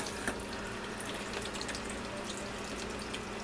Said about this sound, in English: You want to rinse with cold water.